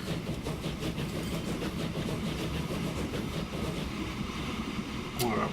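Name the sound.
coal train running in Transport Fever video game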